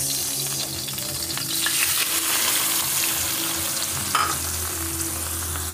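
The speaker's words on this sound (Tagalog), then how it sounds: "Tapos naglagay ako ng konting mantika para naman sa ating ayan. Ayan, ito na yung atay. So ilalagay na natin to guys." Marinated liver, soaked in Sprite and soy sauce, fries in a little cooking oil, giving a steady, close sizzle throughout with a brief louder crackle near the end.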